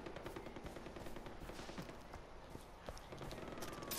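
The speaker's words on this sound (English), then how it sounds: "I was letting shots off in the air" Gunfire in the video game Far Cry 4, shots let off into the air as rapid, dense bursts of cracks over a busy, faint game soundscape.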